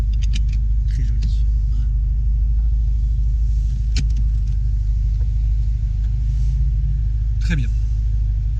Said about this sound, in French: C'est bon, on a sorti la Testarossa. En fait, on est en train de la chauffer parce qu'elle tient pas le ralenti malheureusement.